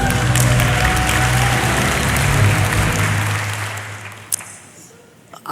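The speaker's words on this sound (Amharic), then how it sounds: "አጨብጭቡለት" A church audience bursts into sustained applause at a pastor's sermon, a dense wash of clapping that swells and holds loud for several seconds before thinning and fading out.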